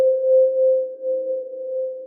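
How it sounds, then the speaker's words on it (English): A steady reverb feedback note from an Ableton looper setup sustains as one unbroken pure tone, fairly loud, with slight swells in level and no voices. "that will now just become a feedback, a reverb feedback note"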